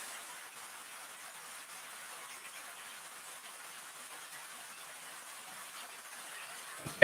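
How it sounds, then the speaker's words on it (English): Steady rain falls outdoors as a constant, soft hiss spread evenly across the whole stretch, with a brief louder knock right at the end. "Okay, so the rain's picking up a little bit."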